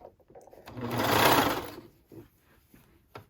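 A sewing machine stitches a curved shirt hem in one short burst that rises and fades, with faint fabric handling and small clicks around it.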